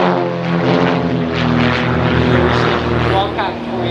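Wildcat aerobatic team aircraft with large 540 cubic inch, 9 litre propeller engines fly overhead at an air show, a loud steady droning roar with strong harmonic tones that holds throughout.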